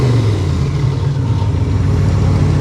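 A 1957 Chevy Bel Air engine idles loudly and steadily with a low, throbbing exhaust rumble, continuous throughout, close by.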